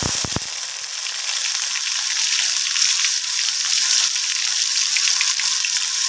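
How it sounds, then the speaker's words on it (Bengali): Onion paste dropped into hot oil sizzles steadily and loudly for the whole stretch, a dense hiss that follows a few brief clunks at the start, with nobody speaking. "তেল গরম হয়ে গেছে এবার দেব পেঁয়াজ বাটা"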